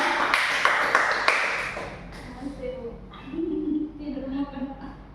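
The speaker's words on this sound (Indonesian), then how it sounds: "Tepuk tangan untuk kita semua deh." A brief round of classroom clapping rings out for a couple of seconds, with a few sharp louder claps. It quickly dies away as a voice starts speaking.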